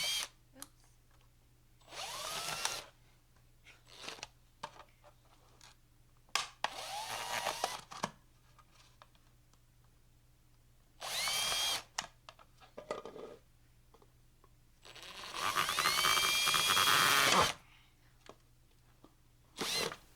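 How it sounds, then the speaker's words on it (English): Power drill boring drainage holes through a cup, heard as several separate loud, whining bursts of a few seconds each, with quiet pauses between them and a longer final run near the end. "I used a power drill, which was a little crazy"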